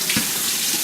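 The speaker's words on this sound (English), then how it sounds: "So I've been taking my gnocchi, my dumplings out, and I'm rinsing them" Cold tap water runs into a kitchen sink as freshly boiled Hungarian dumplings (nokedli) are rinsed, a steady close splashing hiss with a brief louder gush near the start.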